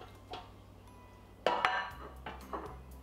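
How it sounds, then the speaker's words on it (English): Potato pieces clatter into a metal air fryer basket, giving a few sharp clinks and a louder rattling tumble over a low steady hum, close and without talk. "And then I just kind of toss it around. This all goes in the basket of your air fryer."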